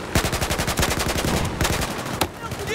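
Machine-gun fire pours down from the sky during a heavy US combat mission in a PC first-person shooter. Rapid, evenly spaced bursts hammer close and loud, with one sharper crack near the end and short voice bits mixed in.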